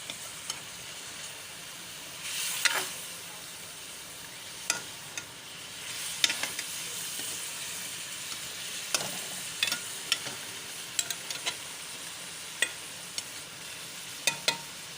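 Chicken sizzles steadily in a pan for an aloo chicken masala, with a continuous frying hiss broken by scattered sharp scrapes and clicks of a spoon stirring against the metal.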